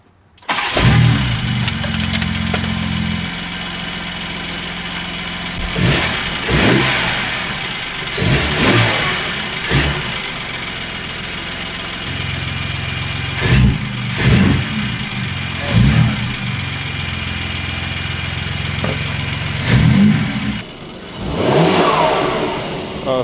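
A BMW M3 fitted with titanium front-mount intakes is started and revved repeatedly, with sharp bursts climbing and falling between steadier idle stretches. The sound is loud and close.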